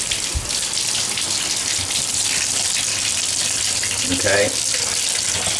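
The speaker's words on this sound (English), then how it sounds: "So I'm going to fill up the tub with more water because this won't work." A bathtub filling from the tap to prepare for plunging a clogged drain, a loud, steady broadband gush of running water close by, with a brief spoken word near the end.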